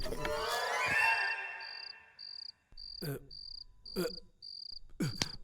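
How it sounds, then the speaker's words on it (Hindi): High-pitched mosquito whine in a dubbed action movie scene, heard as a steady series of short repeated buzzes after a burst of noise, with a few soft thuds between them. "अबे तेरी मच्छर की, यादव को काटता है।"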